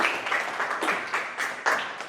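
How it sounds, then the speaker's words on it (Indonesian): Students in a classroom clap for a classmate in a short, uneven burst of applause, with a few louder claps standing out near the end. "Tepuk tangan dulu buat Rulip."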